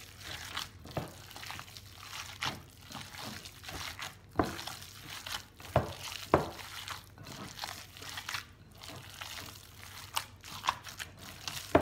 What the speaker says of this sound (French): il suffit de tout mélanger